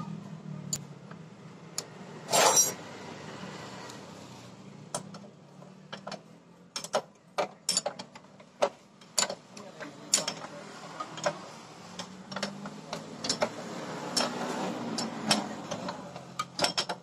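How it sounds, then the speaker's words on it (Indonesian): A wrench ratchets while tightening a motorcycle's rear axle nut after the chain is adjusted. Faint, irregular ticks and clicks sound close by over a low background hum. "Oke, sudah pas, kita kencangkan ya untuk as rodanya."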